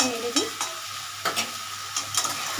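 A banana-stem and potato dish with gobindobhog rice is stirred in a pan after ghee goes in. A soft, steady sizzle carries a few clear scraping strokes of the spoon, fairly quiet and without speech.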